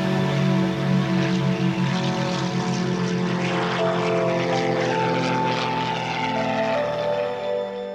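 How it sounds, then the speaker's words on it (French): An Extra 330 aerobatic airplane's propeller engine drones steadily and loudly throughout, a close, sustained buzzing hum with shifting harmonics and no talk. "Ma monture, un Extra 330, un avion spécialement conçu pour la voltige."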